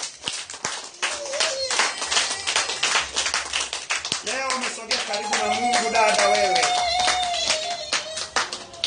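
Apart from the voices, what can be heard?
congregation applauding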